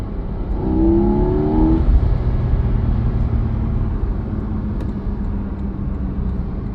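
A Porsche 718 Cayman GTS engine revs from inside the car, a rising tone that climbs then settles into a steady droning hum under road noise.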